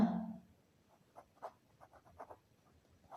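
Pen or pencil writing on paper during a maths lesson, faint scratchy strokes in short bursts after a brief louder bump at the start, close and quiet.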